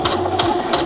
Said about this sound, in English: So step on the foot pedal, step gently.